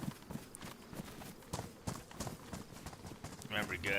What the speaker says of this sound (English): you hear footsteps, man